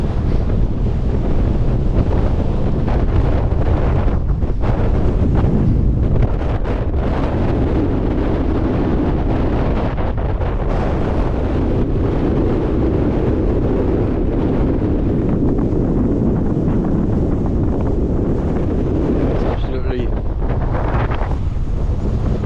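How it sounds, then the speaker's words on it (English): Strong wind gusts across an open fellside at Haweswater in the Lake District and blows through a fence, giving a loud, continuous roar with rough buffeting on the microphone and no talk. "So the wind's really picked up."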